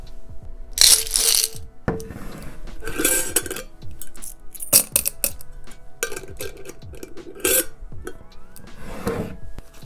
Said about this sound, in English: I'm gonna put this in the coin jar